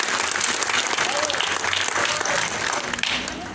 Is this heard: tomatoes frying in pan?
no